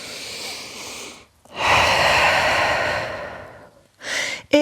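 Slow, deep breaths close to the listener during a gentle vinyasa yoga session in downward dog: a long exhale, then a longer, fuller breath, followed by the start of another, with no talking.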